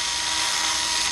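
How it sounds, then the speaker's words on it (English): A power drill bores into hard pressure-treated wood, giving a brief, steady, close whirring grind that stays at one level. "this damn pressure-treated wood is so hard, it's like drilling into a rock"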